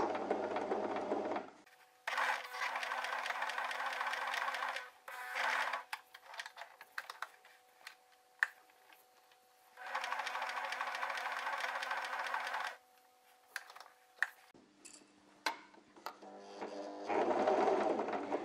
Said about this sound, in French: Et je vais maintenant poursuivre ma couture jusqu'au bout.